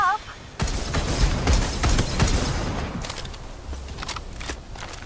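Rapid bursts of video game gunfire crackle through a firefight, dense volleys in the first half thinning to scattered shots, with a voice speaking over the action.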